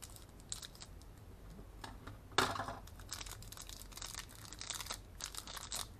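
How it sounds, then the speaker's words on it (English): Scissors cut open plastic and cardboard packaging around a Cubicle Labs puzzle cube, with close crinkling, snipping and rustling and one sharp louder tear partway through. "Gonna have to pull out scissors for this."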